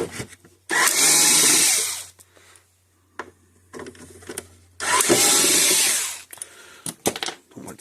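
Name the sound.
removing Phillips screws from a solar panel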